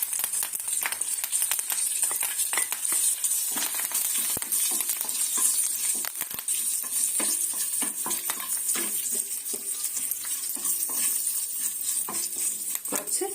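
Dried chillies and curry leaves sizzle in hot oil with popping mustard seeds for a Thrissur-style koorka curry, a steady dense crackle with occasional utensil clinks and stirring scrapes.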